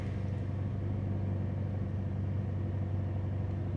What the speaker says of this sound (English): Started the car with the new throttle body.